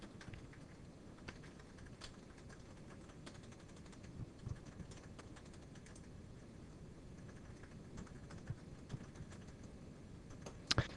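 Fingers type on a computer keyboard, a faint, quiet patter of scattered keystrokes across a low background hum, with a couple of louder key taps near the end.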